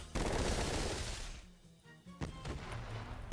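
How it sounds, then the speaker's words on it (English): A Gatling gun combo in Roblox Sonic Showdown fires as a dense burst of rapid shots, breaks off briefly, then resumes with sharper impacts and a renewed rattling stream. "And now we're gonna add in the Gatling gun combo as well."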